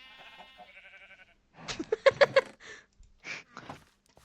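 Sheep bleating in a Minecraft-style OneBlock game, a few short bleats close together in a brief burst after quiet game background, with a faint later call.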